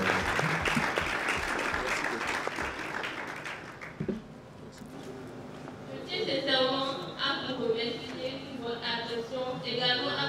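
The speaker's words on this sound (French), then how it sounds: "vous demander vraiment de l'applaudir davantage pour ce travail" Film festival panel audience applauding, a dense wash of many hands clapping that fades out midway, after which voices talk over music.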